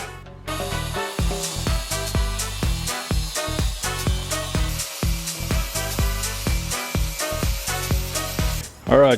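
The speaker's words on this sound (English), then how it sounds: "I just welded the mount on" Welding a tank mount onto a Honda Shadow bobber motorcycle frame: a run of short, crackling, hissing bursts separated by brief pauses, close and fairly loud, ending with one stronger burst.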